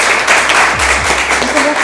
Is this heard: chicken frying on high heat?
no